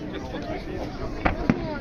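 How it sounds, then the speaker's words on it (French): Fireworks for the 14 July display in Brest pop with two sharp distant bangs near the end over a steady crowd murmur and ambient rumble. "c'est parti les amis pour le petit feu d'artifice du 14 juillet 2023 à Brest"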